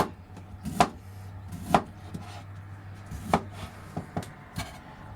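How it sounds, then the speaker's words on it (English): A knife chops beetroot into small squares on a cutting board, giving sharp, close thuds at an irregular pace of roughly one to two per second, with no voices. "we'll chop this up"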